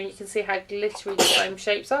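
A single loud sneeze bursts out in the middle of a person's talk about a glittery foam unicorn craft mask.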